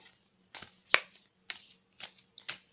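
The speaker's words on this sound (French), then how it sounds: "on va tirer une carte d'énergie de guérison" Oracle cards being shuffled and drawn for a healing energy card reading: a short series of crisp, close papery riffles and slaps in separate bursts, with no talk.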